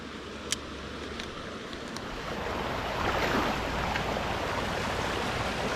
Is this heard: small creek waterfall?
yes